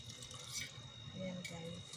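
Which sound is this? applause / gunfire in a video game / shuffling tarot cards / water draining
water draining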